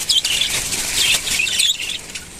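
Frightened pet birds in a wet bird house after a night storm give rapid high chirps and tweets, mixed with fluttering wings, close and fairly loud.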